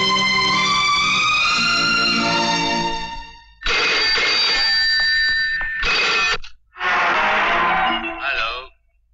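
A telephone in a Hindi action film rings for about three seconds in a steady electronic trill, then gives way to loud dialogue with brief pauses.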